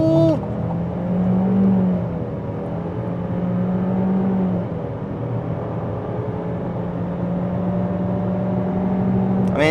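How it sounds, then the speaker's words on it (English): A 2026 Chevy Equinox RS accelerates under throttle, a steady engine drone rising in pitch over about ten seconds, heard from inside the cabin with a constant road hum beneath it. "We can open her up a little bit more over here on the gas."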